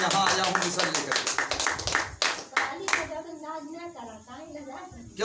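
Applause for Doctor Lim rises in a burst of close, brisk hand claps that thin out partway through, as a voice begins speaking over and after the clapping.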